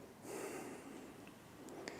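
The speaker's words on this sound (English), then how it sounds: "So a little bit fuller breath in, slow, easy breathing." One slow, full inhale taken through the nose during a gentle breathing and movement practice, soft and close, rising and then sustained before easing off, with a faint click near the end.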